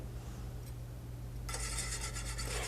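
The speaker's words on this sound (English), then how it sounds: "I'm gonna whisk in the majority of the flour" A whisk scrapes and rubs through flour and melted butter for a roux in a pan. It starts as quiet strokes, then turns into louder, quick rhythmic rasping up close.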